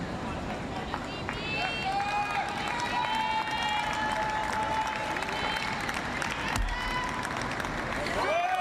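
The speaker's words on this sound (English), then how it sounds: "gets a round of applause from his opponent as well" Spectators at a Paralympic boccia match in Paris give sustained applause. The clapping stays steady and mixes with crowd noise under a commentator's continuous talk.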